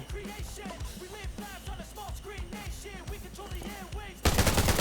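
Rapid automatic gunfire from the online survival shooter Undawn, with bursts of shots repeating steadily for about four seconds before a louder, harsher blast of noise at the end.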